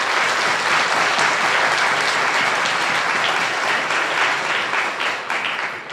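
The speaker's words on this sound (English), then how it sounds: "I want an echo from the hall by clapping" An audience in a hall at a mental health awareness fundraiser claps steadily and densely for several seconds, a broad wash of applause that tapers slightly at the end.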